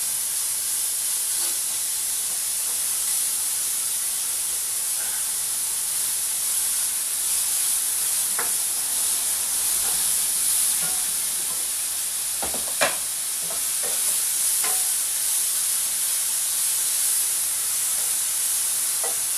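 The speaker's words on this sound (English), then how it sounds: "this bacon needs to be fried until it's a little crisp and starts to shed some fat" Bacon fries in a pan with a constant loud sizzle and hiss, scattered sharp pops and crackles breaking through, heard up close with nobody talking.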